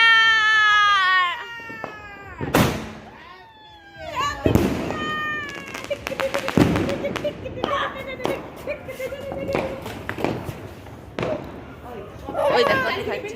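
Firecrackers burst at a midnight New Year celebration, with sharp loud cracks and scattered pops among whistling rises, while people chatter and call out nearby.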